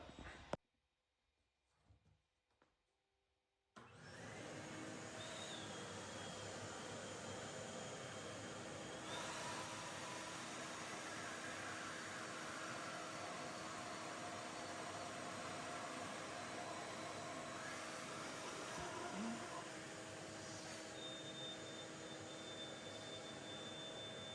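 A vacuum cleaner runs steadily and loudly for about twenty seconds, used as a trick while wiring up a new KlipHanger handlebar on a 2022 Indian Pursuit motorcycle; a few faint knocks come before it starts.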